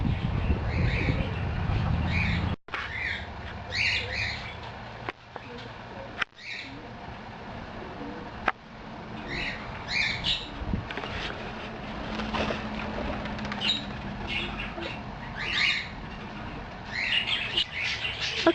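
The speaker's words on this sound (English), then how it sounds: "Bad pigeon." A pigeon near a garden loft beside a small pond, with soft chirpy bird calls and scattered rustling or flapping bursts over steady outdoor background noise, while a person talks intermittently.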